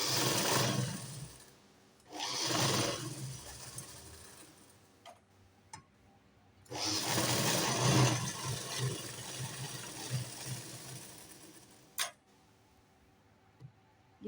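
Troublesome sewing machine double-stitching a blouse from slippery saree fabric: rapid mechanical ticking in bursts of a second or more, separated by pauses, with a longer run near the end and sharp clicks between.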